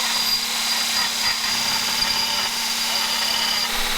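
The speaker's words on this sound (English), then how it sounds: "I'm gonna try to notch this with my new VSM 36 grit belts." A belt grinder with a coarse VSM 36-grit belt notching metal tubing for custom suspension parts gives a steady, loud, continuous grinding roar with a high whine, running unbroken with no talk.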